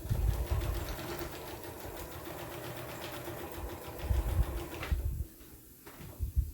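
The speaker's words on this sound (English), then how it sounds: "now I'm taking this to the sewing machine, and I am just going to, there again, stitch around my layers" A sewing machine stitching around layered paper and fabric on a handmade journal, a steady close mechanical whirr that pauses near the end before a brief restart, with no talk.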